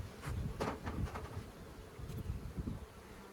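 Honey bees buzzing steadily close by at a hive while queen cells are set up, a dense droning hum with individual bees swelling louder as they pass near.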